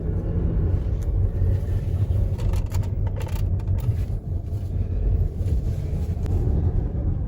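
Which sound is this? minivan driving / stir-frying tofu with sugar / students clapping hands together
minivan driving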